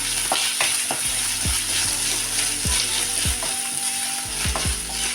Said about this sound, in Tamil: இப்போ பொடியாக கட் பண்ண ஒரு தக்காளியை போட்டுக்கணும். இதையும் நம்ம வதக்கிக்கலாம்.